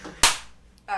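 A single sharp hand clap marks the start of a podcast recording, loud and close, followed by a fading room tail and brief faint voice sounds afterward.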